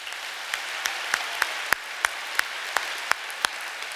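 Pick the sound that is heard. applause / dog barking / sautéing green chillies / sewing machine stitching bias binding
applause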